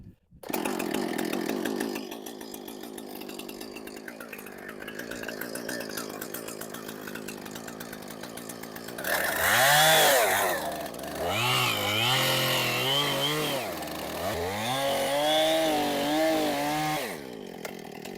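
A chainsaw cutting into a very large section of felled tree trunk, the engine droning steadily and then revving and bogging in repeated pulses as the chain bites deep into the wood, close and loud.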